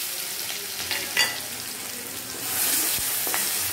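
Garlic and chili paste sizzles in hot oil with cumin, a steady close frying hiss with a brief clatter of stirring and a louder surge near the end, no voices.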